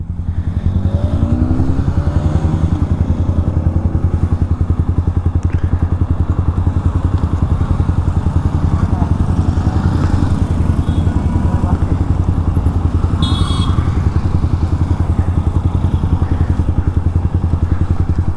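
Royal Enfield Himalayan 411cc single-cylinder motorcycle engine running steadily and loudly up close for the whole stretch, a continuous low thumping drone with wind and road noise over it.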